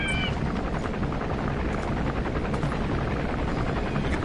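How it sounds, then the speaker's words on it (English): Enemy helicopter in a PS4 action game, a loud, steady rotor thrum and engine buzz holding throughout with no pauses, close and dominant. "The enemy chopper is heading over to pick them up."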